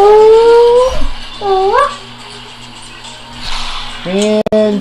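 A dog whimpers and howls in a few rising, wavering whines, close and fairly loud, with quieter gaps and a soft background hum between the cries.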